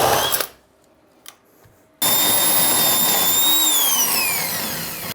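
A power drill fitted with a hole saw bores through a wall close to the floor near studs, starting with a brief burst, then a pause with a faint knock, then a loud steady high-pitched whine whose pitch slowly sags under load.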